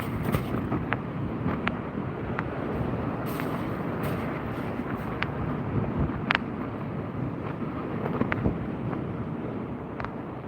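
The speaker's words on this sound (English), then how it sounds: "That's getting windy." Wind at sea during kayak fishing, a steady rough buffeting roar across the microphone throughout, with scattered small knocks and clicks and no talk.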